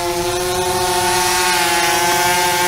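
A DIY bicopter drone with an ESP32 flight controller flying outdoors: a steady, loud, high-pitched propeller whine with strong tonal harmonics, sustained and unbroken throughout, with no voices.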